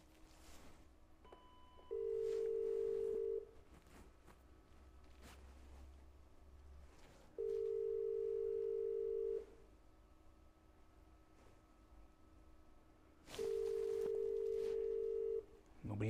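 Telephone line ringback tone on an unanswered call, three long steady beeps spaced evenly and heard alone over faint room noise.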